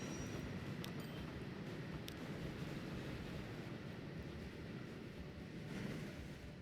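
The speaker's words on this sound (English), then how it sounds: "And there's the train on its way to Bedford." A steam-era train rolls along in the 1860s setting of the video game Transport Fever 2, a steady low rumble of running wheels at a quiet, even level, with a couple of faint clicks near the start and no talk.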